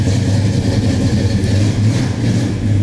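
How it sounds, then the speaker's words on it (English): A 1970 big block Chevelle with a five-speed manual, Hooker headers and full 3-inch Flowmaster exhaust with an X-pipe, loud and close, a deep rumbling idle with a steady throb and no voices. "How about exhaust on it? Because that sounds killer when you come rolling in."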